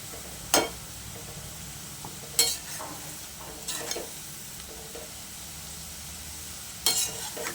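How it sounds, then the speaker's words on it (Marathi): Onions frying to a reddish brown in a pan give a low, steady sizzle, broken by a few sharp spatula scrapes and clicks spaced several seconds apart, with no one talking. "तर छान असा लाल तळला येतो कांदा वगैरे, छानसा मस्त तळलाय."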